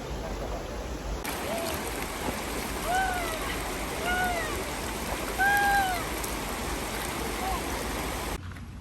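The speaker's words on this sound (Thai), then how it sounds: "ฝนตกแล้ว" Rain pours steadily near a stream at a Pak Chong glamping site, a dense loud hiss of water that stays constant throughout while faint bird calls come through on top.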